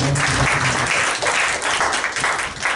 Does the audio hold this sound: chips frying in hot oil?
no